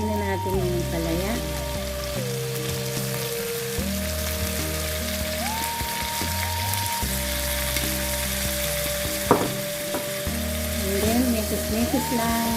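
Bitter gourd (ampalaya) dropped into a frying pan with softened tomato sizzles steadily and fairly loudly, a continuous crackling fry over a low hum, with a brief clatter near the end.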